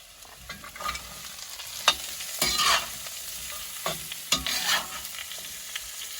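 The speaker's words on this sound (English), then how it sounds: "you're going to stir fry the carrots for about 2 minutes" Carrots are stir-fried in a pan after salt and pepper go in. Steady sizzling runs under repeated scraping strokes from a utensil, and sharp clacks against the pan come at irregular intervals. No voices are heard.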